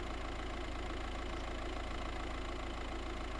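A car engine in the video game DayZ idles with a low, steady rumble that is fairly quiet and unchanging, heard alone without talk.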